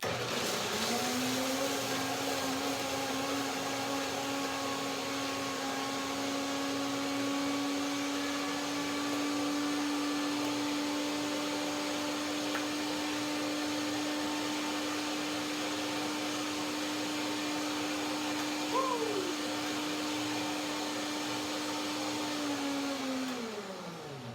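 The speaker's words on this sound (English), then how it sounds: "Blender dance, right now." A blender whirs through raspberry cheesecake filling with a steady, loud motor drone. It spins up at the start, runs evenly for about twenty seconds, then winds down, with no talking.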